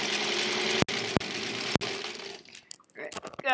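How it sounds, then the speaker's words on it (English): A sewing machine runs steadily while stitching a strip of a foundation paper-pieced quilt block, a continuous close motor hum broken by a few sharp clicks, then stops and gives way to light handling noises. "let's sew just that one piece there"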